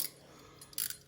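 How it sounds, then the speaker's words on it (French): A small kitchen timer is wound and set while sauerkraut simmers: a faint mechanical ratcheting with a couple of brief clicks, close and quiet, without any voices. "Alors, on met le petit chrono."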